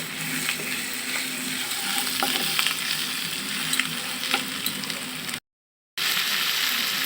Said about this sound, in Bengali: এক চামচ ধনিয়ার গুঁড়া এক চামচ মরিচের গুঁড়া ও এক চামচ জিরার গুঁড়া দিয়ে ভালোভাবে কষিয়ে নেব